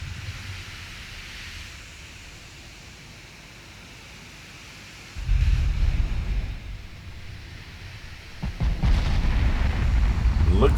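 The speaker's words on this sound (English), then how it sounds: "15-inch guns the enemy are using." Heavy 15-inch naval guns fire in a warship battle game, with deep booming blasts and rumbling roar arriving in bursts after a quieter stretch of low ambient noise.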